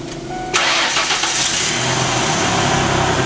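A car engine with a misfire cranks and catches at about half a second, then runs steadily and fairly loud, a little rough and uneven, with no talking.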